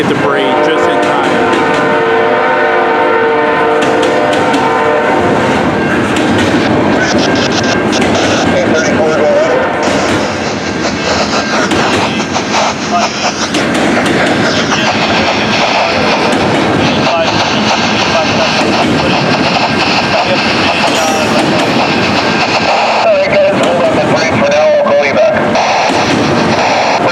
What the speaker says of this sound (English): Got another train from the north. I bet you it's the Amtrak.